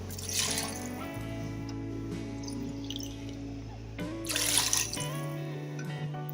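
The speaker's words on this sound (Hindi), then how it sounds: "मैं उसी हिसाब से इसमें पानी डालूँगी" Water runs steadily from a tap into a cooking pot for rice for a biryani, a continuous close splashing stream that swells twice, with no talking.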